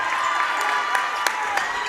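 A crowd in a high school gymnasium cheers and applauds at an opening-round basketball playoff game, with a steady roar and sharp claps and whistles rising above it.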